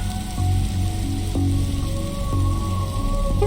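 Rain falls steadily in the point-and-click detective game The Darkside Detective, a soft continuous patter laid under a looping musical backdrop, with no voices.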